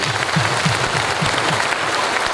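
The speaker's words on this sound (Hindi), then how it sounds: "एक बार जोरदार ताली चाहेंगे" An audience breaks into applause at a business testimony event, a dense, steady wash of clapping with a rhythmic low thump underneath, continuous and loud throughout.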